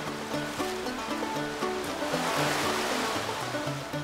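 Rapids on the French Broad River rush in a steady, loud broadband roar along its steep eight-mile stretch near Barnard, with soft tonal music notes playing underneath throughout.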